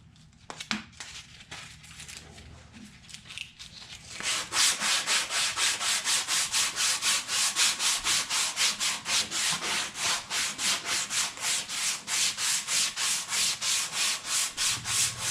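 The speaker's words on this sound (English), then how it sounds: "I'm going to use some sandpaper. I have 80 grit." 80 grit sandpaper rubbed by hand along a wooden guitar neck, a few scattered scrapes and knocks giving way to steady, loud back-and-forth sanding strokes in a quick, even rhythm, close up.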